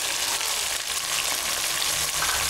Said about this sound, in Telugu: ఇప్పుడు ఇందులో ఉల్లిపాయ ముక్కలు వేసుకోవాలి